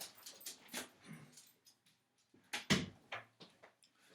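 A dog whimpers and yips to be let outside, a few short whines scattered over a few seconds with a thud or door-like knock midway, fairly quiet and alone.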